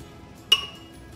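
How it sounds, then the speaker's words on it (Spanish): A single sharp clink rings out as cooked chilies and tomato are tipped into a glass blender jar in a kitchen, brief and close against a quiet background. "Ahora lo vamos a pasar a nuestro vaso de licuadora."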